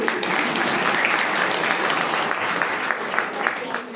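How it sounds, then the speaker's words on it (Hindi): An audience claps briefly and steadily, a lively patter of hands that swells slightly and then tapers, with a voice speaking faintly under the applause. "इस बात को अब ताली नहीं बजाओगे"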